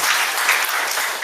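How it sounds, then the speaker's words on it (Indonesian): A short, dense burst of audience clapping at a seminar talk that stays at an even intensity for about a second. "Tepuk tangan."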